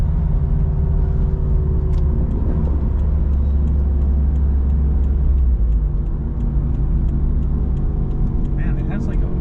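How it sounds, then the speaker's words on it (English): Steady in-cabin road drone from a modified Toyota FRS, with a faint differential whine over the low rumble of the car at speed, continuous and even throughout. "it has like a weird whine. Yeah, that's definitely a diff noise."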